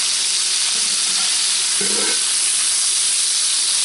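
Meat searing in a hot pan for a slow-cooker comfort dish, giving a loud, steady, close hissing sizzle throughout, with a brief louder crackle midway as the meat shifts.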